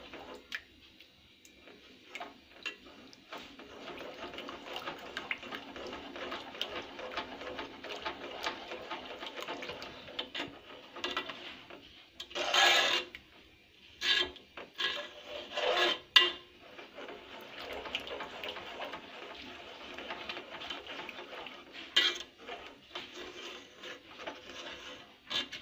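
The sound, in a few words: stirring zunka gram flour mixture to break lumps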